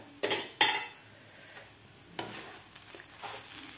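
A lid comes off a pot of sabudana khichdi with a couple of quick metallic clinks and clatters, followed by faint scraping and light kitchen handling in a quiet room.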